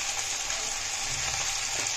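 Chopped tomatoes, cut for cauliflower kofta curry, land in a hot frying pan and sizzle in a steady, soft hiss with faint stirring underneath, no talking.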